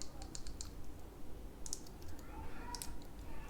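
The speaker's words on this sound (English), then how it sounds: "This one is definitely clicking." Light plastic clicks from the side buttons of a returned Amazon item come in small clusters over a faint background hiss, close and quiet, with no voice.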